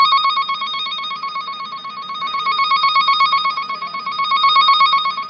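A wire tracer tool's probe sounds a steady, loud electronic warbling tone while following a wire through a car's wiring harness, a continuous pulsing beep that swells slightly louder toward the end.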